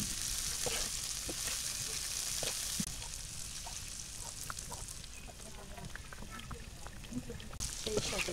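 Chopped onion, garlic and chili sizzle steadily in hot oil in a pan, cooking with hilsa fish, with scattered stirring clinks and a voice talking over the hiss.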